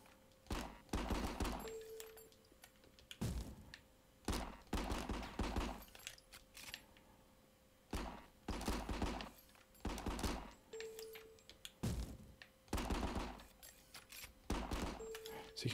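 Repeated bursts of gunfire from the RICO video game on Nintendo Switch during a room-clearing raid: sharp, loud volleys separated by short pauses, with a few brief electronic tones between them.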